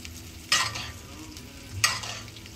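Steak searing in a pan at home as butter pan juices are spooned over it, a steady low sizzle broken by two sharp bursts of spattering as the hot fat lands.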